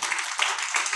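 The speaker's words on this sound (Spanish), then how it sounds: "Denle un buen aplauso al Señor" A church congregation's applause rises as a dense, steady wash of many hands clapping together, fairly loud and close, filling the whole moment with no break.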